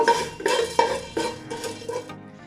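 Whole spices such as cloves, black pepper and cumin dry roasting in a pan with curry leaf while making keema matar, a spoon scraping and stirring in a steady rhythm of repeated strokes, close and clear, with no talking.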